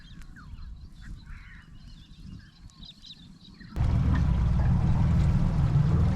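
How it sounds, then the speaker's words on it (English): Birds call and honk at sunrise in remote Australian bush, scattered cries over a low rumble, until a loud steady rushing noise abruptly takes over and buries them. "the sound of the birds"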